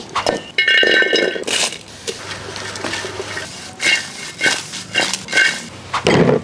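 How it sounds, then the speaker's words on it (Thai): Fresh and dried chilies, shallots, garlic and coriander root dry-roasting in a pan, with repeated metallic clinks and scrapes of a utensil against the pan coming in bursts, fairly close and loud. "เอาพริกสดพริกแห้ง หอมแดงกระเทียมรากผักชี ทำอะไร ไปคั่วก่อน"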